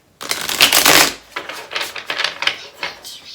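A deck of cards is riffled and bridged up close, starting with a loud rushing flutter and then breaking into a run of shorter crisp riffles and taps, with nobody talking.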